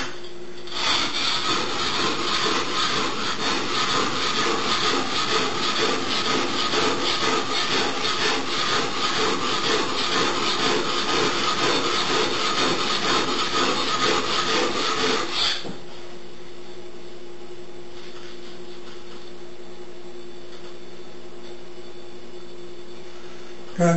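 A knife blade's primary bevel ground against a bench stone, steady rhythmic rasping strokes, loud and continuous for about fifteen seconds, then stopping to near quiet.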